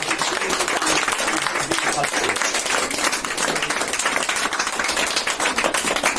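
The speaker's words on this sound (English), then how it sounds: "Please have a lot of claps for Miss Afreen from Bangladesh." A crowd claps loudly and continuously at an award ceremony at an English language institute, a thick, even wash of hand claps with faint voices underneath.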